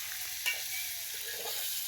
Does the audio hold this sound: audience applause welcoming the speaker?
no